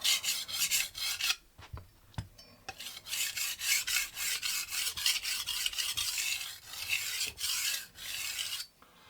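A Wusthof kitchen knife is sharpened on a VENEV diamond stone, giving close, gritty rasping strokes in a steady back-and-forth rhythm with brief pauses between passes.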